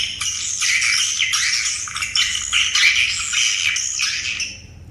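Swiftlet calls played through a speaker at a swiftlet farm, a loud dense stream of high chirps and twittering that runs continuously before cutting off near the end.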